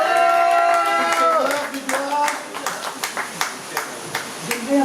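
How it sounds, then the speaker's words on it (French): Scattered, sparse hand claps from a live comedy-show audience applauding the technician, following a stretch of voice and tonal sound, with individual claps standing out rather than a full ovation. "On va applaudir le technicien, s'il vous plaît."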